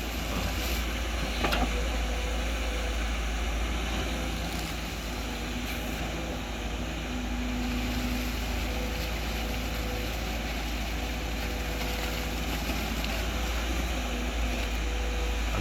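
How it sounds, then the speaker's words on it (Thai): Backhoe excavator engine running steadily while digging a pond, a constant low rumbling drone with faint clanks, moderately loud and continuous throughout. "ผู้พันขับแบคโคครับ"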